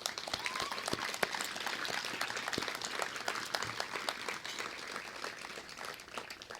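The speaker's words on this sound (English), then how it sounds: "let's give it a round of applause for those Eagle Scouts" Steady applause for Eagle Scouts at an Eagle Scout dinner, a roomful of people clapping continuously and evenly at moderate distance for several seconds.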